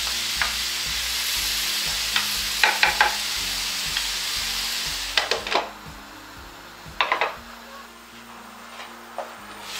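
Leek omelette mixture frying in oil, a steady bright sizzle with intermittent scraping and clinks of a utensil stirring in the pan, fading somewhat toward the end.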